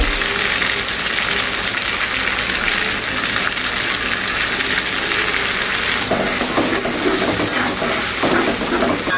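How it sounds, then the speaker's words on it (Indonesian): Chili peppers fry in oil already used for tofu, jengkol and salted fish, giving a loud, close, continuous sizzle and crackle that holds steady with no talking. "Aku goreng cabenya pakai bekas minyak goreng tahu, jengkol, dan juga ikan asinnya ya teman-teman."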